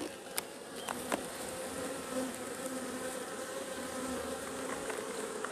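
Dense, steady buzzing of many honeybees swarming around an opened hive as frames are lifted out during a package and nuc install, with a few individual bees zipping close past now and then.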